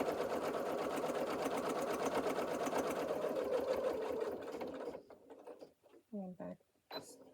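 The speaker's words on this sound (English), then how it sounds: "I am going to do a little back stitch here because it's 2 pocket layers" A sewing machine back stitching through two pocket layers of an apron, running in a fast steady chatter for several seconds, then stopping into short mechanical clicks and handling sounds.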